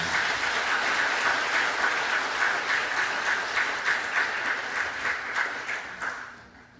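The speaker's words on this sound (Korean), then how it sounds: "이분들 박수로 환영해 주시기 바랍니다" A church congregation applauding to welcome elders during a Sunday service: a dense, sustained wash of many hands clapping at steady volume, tapering off toward the end.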